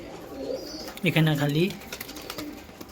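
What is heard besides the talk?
pigeons cooing in a loft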